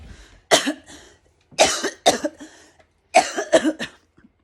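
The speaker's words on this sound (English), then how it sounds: "As I cough my lungs out." A person coughs repeatedly in close bursts, several harsh, chesty coughs grouped in clusters with short pauses between.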